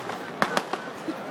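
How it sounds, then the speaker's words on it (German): Cheap firecrackers go off during a fireworks display at the Heinerfest, three sharp bangs in quick succession and then a fainter pop, all over the murmur of a crowd. "Jetzt kommen nur noch die billigen Böller."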